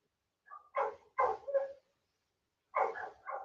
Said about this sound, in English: The hounds out here barking like they ain't got no damn sense.